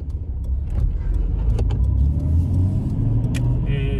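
A Nissan Skyline GT-R R33 2.6 4WD with a Fujitsubo muffler rumbles at low engine speed on a test drive, a steady close drone inside the car with a few faint clicks.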